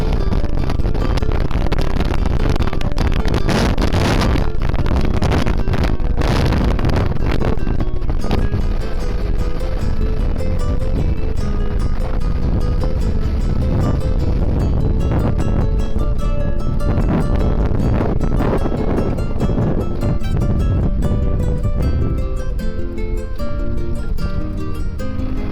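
A strong cierzo wind sweeps across open plains in the Ebre region, roaring loudly and steadily against the microphone with heavy gusty buffeting throughout.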